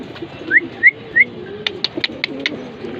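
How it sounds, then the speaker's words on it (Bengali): White racing pigeons calling close by, with three short rising notes followed by a quick run of soft clicks and flutters against a quiet background. "গুড কোয়ালিটির হোয়াইট কালারের কবুতর"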